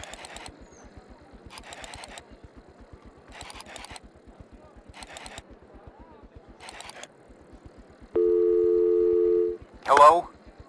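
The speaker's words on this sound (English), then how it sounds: "Come on, dial it now." Telephone in the video game Kujlevka is dialed: a series of evenly spaced short rotary-style clicks in bursts, then a steady ringing tone, with a brief voice at the end.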